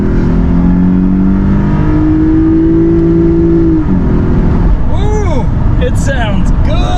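A 2011 Lexus IS250 with an aftermarket intake pulls hard in second gear, a loud droning engine tone rising steadily under close, excited talk inside the car.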